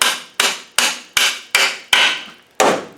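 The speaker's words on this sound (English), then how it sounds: "I'm going to put the nut on to protect the threads, and I'm just going to tap it" Seven sharp metallic hammer taps, evenly spaced, drive a gear onto the shaft of an LT230 gearbox, with a nut threaded on to protect the threads; each strike rings briefly and decays, close and loud with no talking.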